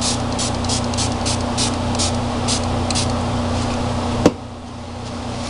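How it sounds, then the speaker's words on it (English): A continuous hiss of spray paint from an aerosol can onto a picture frame runs steadily for several seconds, then stops abruptly after a sharp click. "I'm going to spray this just a little bit more."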